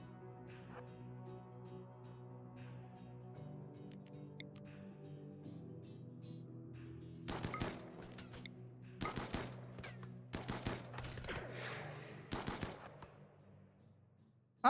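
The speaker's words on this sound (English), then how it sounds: "Steepawk's almost got a shot off with that chain shotgun" Chain shotgun gunfire in the RimWorld video game, several bursts of broadband blasts from about seven seconds on over a steady tonal music bed, loud and close with short gaps between volleys.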